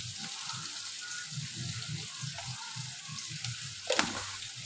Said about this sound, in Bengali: সবজিগুলো ভালো করে একটু নাড়াচাড়া করে নেবো